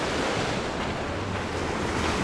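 Storm-driven sea waves surge and roar against a breakwater at Sochi, a loud, unbroken wash of surf with wind buffeting the microphone.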